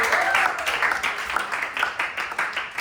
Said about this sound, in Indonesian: Oke, boleh tepuk tangan sekali.